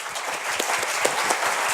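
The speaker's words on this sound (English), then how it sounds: "Let us give a big applause to the panelists." An audience at an international conference panel discussion on a nuclear-free Korean peninsula gives sustained applause, many hands clapping in an even, continuous wash with no voices.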